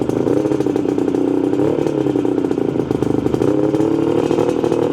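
A Suzuki GT380 two-stroke triple motorcycle engine on a very cold countryside day in the Cotswolds, running close and loud with a rough, buzzing, uneven beat as the cylinders catch.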